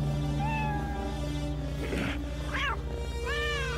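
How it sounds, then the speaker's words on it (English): A robot cat in the video game TimeSplitters: Future Perfect gives several clear, rising and falling electronic-sounding meows over a steady droning game background, with no talking. "With his robot cat."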